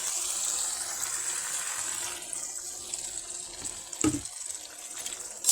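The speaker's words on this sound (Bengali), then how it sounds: "এখন কিন্তু আমি এখানে ঝোল দিয়ে দেবো, মানে মাছের যে ঝোলটা আছে সেটাই দিয়ে দেবো।" Fish broth poured into a thick, well-reduced rohu fish curry: a steady watery pouring stream runs for several seconds, then a brief louder splash near the end, with no talk.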